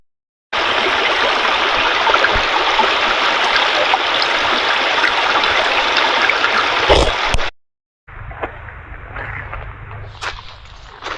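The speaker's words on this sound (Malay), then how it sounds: "Sungai dia berbatu." A rocky river stream flows loudly and steadily, a broadband rush of water that cuts off abruptly near seven and a half seconds, then resumes more quietly with scattered splashes and faint background sounds.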